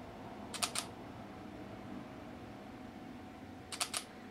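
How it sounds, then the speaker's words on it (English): Samsung NX1100 camera shutter fired by an intervalometer gives two quick clicking bursts, about three seconds apart, faint and close over a quiet hum. "You can probably hear the shutter going there."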